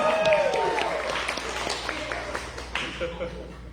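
Scattered clapping from an open mic audience greets a first-time reader, moderately loud and uneven, with voices and a brief whistle-like tone mixed in.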